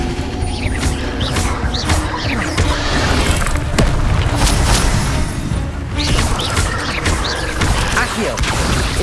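Bursts and crackles of spell effects with booms and thuds from Expelliarmus casting in Hogwarts Legacy combat, loud and continuous over a dense game soundscape.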